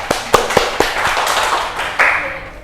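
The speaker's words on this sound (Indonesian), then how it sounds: "Tepuk tangan untuk Mbak Faiz" A few crisp, separate claps ring out in a microteaching classroom, then blur into a short, ragged burst of applause for a student.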